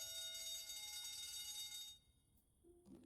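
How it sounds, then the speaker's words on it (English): A steady high electronic alarm rings in a video game, holding continuously for about two seconds before cutting off abruptly, followed by a brief faint tone. "Shouldn't you do something about that alarm?"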